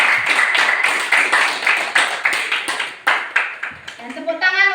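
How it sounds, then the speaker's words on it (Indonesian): Small group of workshop participants at an Indonesian teacher training session clapping together in a fairly close, uneven burst that slows and thins out toward the end. "Oke, tepuk tangan."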